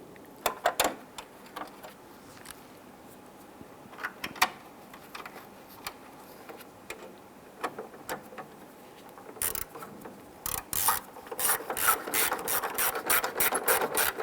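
Screws being driven in to secure a headlight on a 1995-2001 Ford Explorer, scattered sharp ratcheting clicks early that become rapid, repeated close clicking bursts toward the end.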